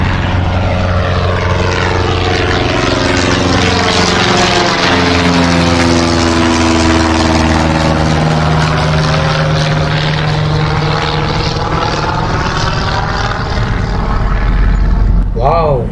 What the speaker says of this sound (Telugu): ఇదిగో ఫ్లైట్ టేక్ ఆఫ్ అవుతుంది